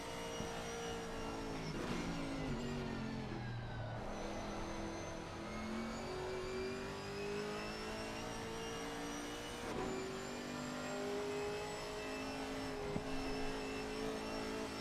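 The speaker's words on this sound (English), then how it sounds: "lovely sounding Camaro." A Chevrolet Camaro GT4 race car at Mount Panorama keeps up a steady, loud engine drone from onboard, its pitch rising and falling through gear changes with no talk over it.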